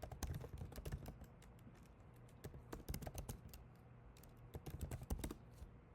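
Quick, irregular clicks of typing on a computer keyboard, close and fairly quiet, in uneven bursts with brief pauses.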